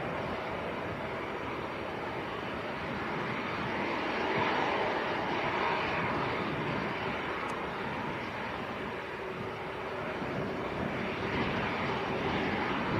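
A Jet2 passenger jet takes off from the Leeds Bradford Airport runway bound for Malaga, a steady broad engine roar heard from a distance, sustained and swelling gently with no voices.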